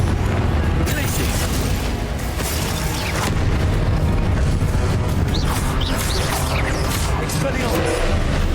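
Spell blasts from the Hogwarts Legacy video game, including disarming, fire and explosive spells, rumble and boom continuously amid dense combat noise, loud and close, with shouted spell incantations layered over the effects.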